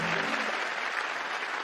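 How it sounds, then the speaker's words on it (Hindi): Studio audience on The Kapil Sharma Show applauds as actress Rekha is welcomed as a guest, a dense, steady wash of clapping that fills the brief moment with no voices on top. "तालियां बजती रहें।"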